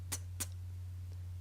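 Two crisp beatboxed hi-hats, vocal imitations of a hi-hat, sound as short, bright ticks in quick succession, close but fairly quiet over a low steady hum, followed by a faint trailing click.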